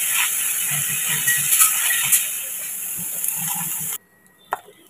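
Jackfruit pieces fry in a pan with a loud, constant hissing sizzle that cuts off abruptly, leaving a quiet stretch with a faint tone and a soft knock.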